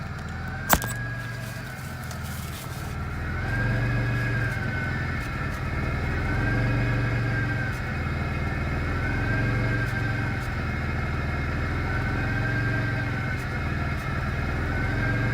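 A 1989 Ford F350 engine running at high idle, a steady close rumble with a faint repeating whine rising and falling over it, after one sharp knock at the start.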